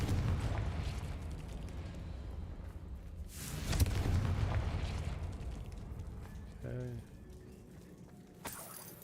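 In the Hogwarts Legacy video game, a Confringo fire spell bursts with a sharp explosive boom, then rumbles and fades, set against ongoing game effects and ambient noise.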